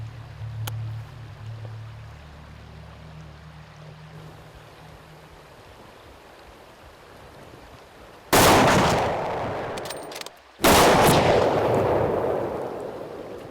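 A hunting rifle fired outdoors at a black bear on Vancouver Island, about 150 yards out: two loud, sharp cracks a couple of seconds apart, each followed by a long rolling echo over quiet background noise.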